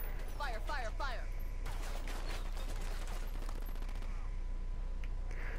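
Rapid gunfire in the tactical shooter Ghost Recon Wildlands, dense overlapping bursts and crackling shots running continuously under game noise, with a short voice-like chatter near the start.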